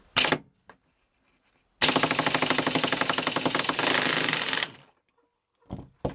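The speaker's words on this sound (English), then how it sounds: "I'll use my impact gun to take this lag screw out" An impact gun backs a lag screw out of a boat engine in one sustained, loud, rapid hammering burst lasting about three seconds, with a few short clanks before and after.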